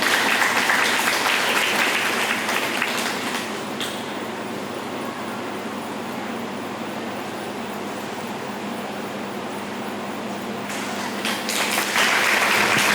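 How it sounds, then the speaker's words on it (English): A crowd claps and cheers loudly, the applause easing to a steady lower patter midway before swelling back up at the end. "give them another round of applause"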